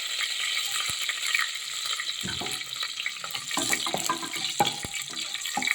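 Red chilies and curry leaves crackle and sizzle in hot oil over a lowered gas flame, a steady bright hiss broken by scattered sharp pops, close and fairly quiet.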